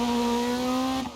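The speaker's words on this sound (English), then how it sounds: "I love the sound of this car though." A loud, steady rally car engine drone in DiRT Rally 2.0 holds a constant high pitch, dipping slightly at the end.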